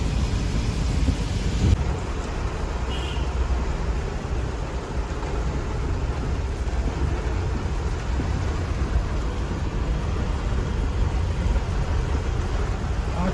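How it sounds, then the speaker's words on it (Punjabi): Heavy rain falls over a city street at night, heard while riding: a dense, constant roar of rain and wind noise, loud and unbroken, with no voices. "ਮੀਂਹ ਵੇਖੋ ਕਿੰਨਾ ਆ ਗਿਆ"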